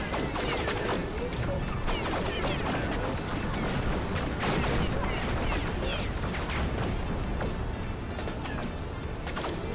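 Dense, continuous gunfire in the PC flight game Rogue Flight, with rapid overlapping shots and impacts hammering loudly and evenly throughout.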